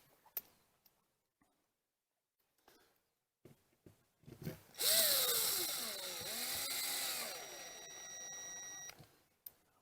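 A power screwdriver drives a screw into the fiberglass siding of an RV while a 30 amp marine grade power inlet is fitted. A few quiet clicks lead into one close, steady whirring motor run of about four seconds with a wavering pitch, with no talking.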